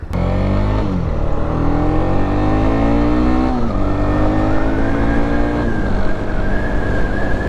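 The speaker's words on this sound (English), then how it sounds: "It sounds really good. I'll give it that. Like pretty damn spectacular here for a little single cylinder 300." Loud single-cylinder engine of a 2020 Honda CB300R motorcycle revving up and down close by, its pitch rising and falling through several gear changes.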